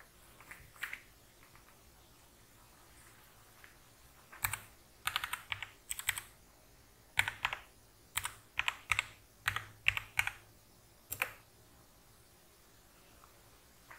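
A command typed on a computer keyboard, about fifteen light plastic key clicks in uneven bursts, close but quiet, with a faint background hiss and no speech.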